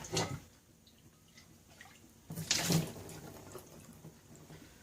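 Water splashes and swirls in a cast iron Dutch oven as it gets a quick rinse at a kitchen stove, with a short splash at the start and a louder slosh and pour in the middle.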